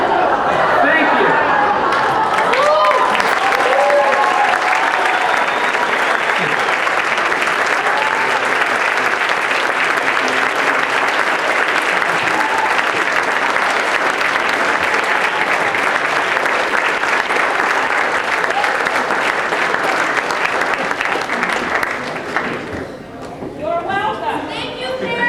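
Sustained audience applause fills a hall at a 2006 NCFCA Invitational homeschool debate awards ceremony, steady and dense for over twenty seconds before fading as a speaker's voice returns near the end.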